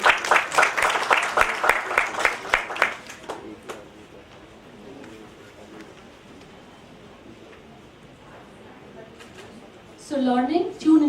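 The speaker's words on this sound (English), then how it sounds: "So can we please clap for her" At a book launch for Nina Lekhi's Bag It All, the audience claps in a lively burst for about three seconds that quickly fades, leaving near silence before a voice begins speaking.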